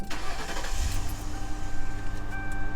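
An old patrol car at 119,000 miles being started, a short cranking burst that catches into a steady idling engine, close and fairly loud.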